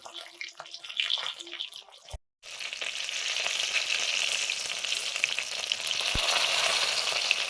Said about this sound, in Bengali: আর একটু জাকিয়ে জাকিয়ে ভেজে নিচ্ছি